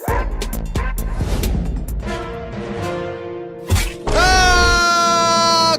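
A pet dog called Tommy barks close by in a series of sharp woofs and yips, with a whimpering whine rising at the end.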